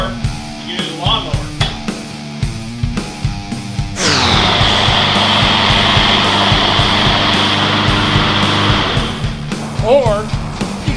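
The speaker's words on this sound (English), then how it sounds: "Or you can use a lawnmower." A lawnmower engine runs to cut a cigar, a loud steady droning roar lasting several seconds, framed by short clattering handling noises before and after.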